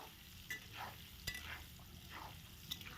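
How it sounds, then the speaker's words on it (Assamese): Paneer cubes frying in a pan for a paneer and potato curry: a quiet, even sizzle with a few brief stirring scrapes and knocks, heard close with no talking. "তাৰপিছত পনীৰখিনি অকণমান ৰংচোৱাকৈ ভাজি ল'ম।"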